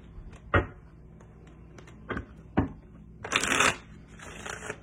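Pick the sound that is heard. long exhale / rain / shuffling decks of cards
shuffling decks of cards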